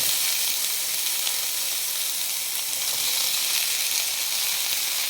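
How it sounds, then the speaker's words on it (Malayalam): Red chilies and tomato sautéing in a pan for a Kerala-style fish curry make a loud, constant, close hissing sizzle, unbroken throughout with no speech. "നല്ല ചുവന്ന മുളക് പിരിയമുളക് ഇട്ട് കൊടുക്കുക എന്നിട്ട് നന്നായി വഴറ്റിയെടുക്കുക"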